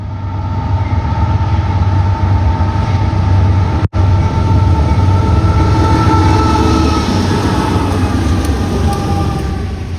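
A heavy freight train with diesel locomotives rumbles steadily past, a loud low engine drone with grinding rail noise and faint clatter, continuous throughout.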